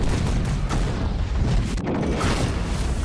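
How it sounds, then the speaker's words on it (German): Loud, dense explosions and booming blasts from a 2012 martial-arts action movie trailer, Tai Chi Zero, rolling continuously with crackling, gunfire-like bursts. "Explosionen."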